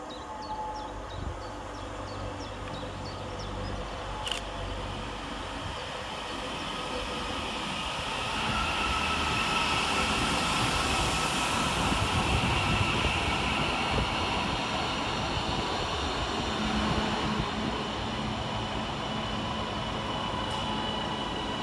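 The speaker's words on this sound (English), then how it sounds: "Arriving next into the station is 331111, working the 1533 Northern service from Doncaster to Leeds." A Northern class 331 train arrives at Adwick station, its rumble growing and holding steady as it pulls in close over roughly twenty seconds, with a brief sharp tone early on and no talking.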